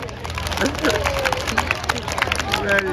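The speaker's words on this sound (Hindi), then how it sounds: "ताली बजाओ अपने लिए।" A group claps for themselves during a laughing exercise session, with irregular clapping mixed into lively crowd chatter and voices, busy and close throughout.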